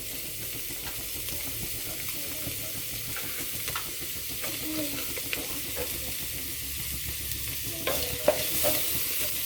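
Chopped onion sautéing in a pan, a steady low sizzle with occasional scrapes and clicks of a stirring utensil, moderately close and without talk.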